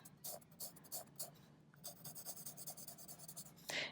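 A pencil shading on paper, moving from dark toward light, in quick soft scratchy strokes that come in bursts with a short pause midway, close and quiet, with no talking.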